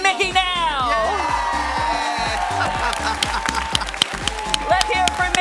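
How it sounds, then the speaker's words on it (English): A studio audience at a televised dog contest applauds and cheers, with steady clapping and a few whoops running under a host's amplified voice and background music. "Big round of applause"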